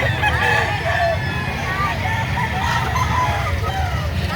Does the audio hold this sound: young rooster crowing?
yes